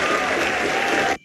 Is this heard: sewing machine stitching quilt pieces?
no